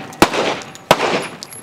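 Two sharp, loud gunshots fired on command at an outdoor shooting range during a combat pistol training course, each a single close crack with a short decaying echo, spaced under a second apart.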